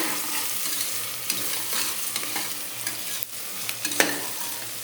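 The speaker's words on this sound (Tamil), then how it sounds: "கத்திரிக்காய் போடுறேன். கத்திரிக்காய் வதங்கட்டுங்க, பார்க்கலாம்." Brinjal sizzling and being stirred in a pan, a continuous frying hiss broken by frequent scraping stir strokes, close and steady with no talk.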